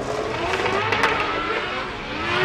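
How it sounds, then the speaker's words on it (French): Drift cars launch at the French Drift Championship 2022, their engines roaring loud and continuous, with rising revs and faint tire noise. "top déclenchement pour Laurent Cousin, suivi de près peut-être par Antoine Amar"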